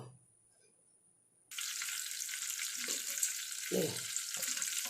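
Fish frying in a pan, starting after a quiet moment with a sudden loud, steady hiss of hot oil that continues close up, with faint clatters of a utensil underneath.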